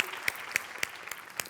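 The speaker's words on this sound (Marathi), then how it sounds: "जोरदार टाळ्या." A studio audience at a Marathi comedy show applauding, heard as a brief, fairly faint patter of claps with a few sharper hand strikes standing out.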